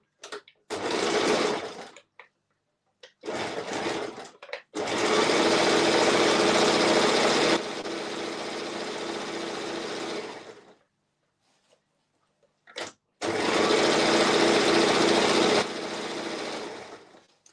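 A sewing machine stitches a tutu in several loud, steady bursts of whirring motor hum, some short and some running several seconds, separated by near silence.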